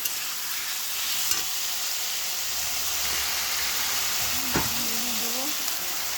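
Steady sizzle of frying in a pan as turmeric goes in for a spicy Bengali fish curry (note macher jhal), with occasional stirring scrapes and a brief voice in the background.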